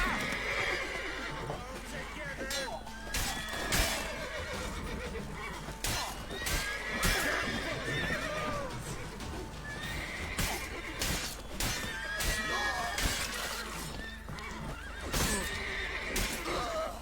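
A horse in The Witcher 3 game world whinnies several times over clip-clopping hooves, with sharp impacts and surrounding game sounds, and voices speak intermittently.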